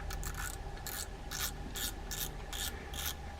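Drag on a Penn Sargus 4000 spinning reel being tightened and checked, a loud, close ratcheting clicker buzzing in regular repeated bursts over a steady mechanical hum, without any voices.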